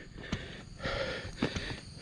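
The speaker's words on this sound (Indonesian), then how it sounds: "gue udah mulai terengah-engah nih" A hiker breathes hard and pants heavily while climbing a very steep trail, with ragged breaths close to the microphone in irregular bursts and no talking.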